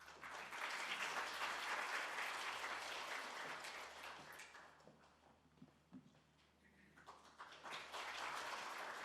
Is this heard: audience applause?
yes